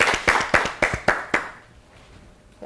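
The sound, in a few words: audience clapping for a contestant on a kids' quiz show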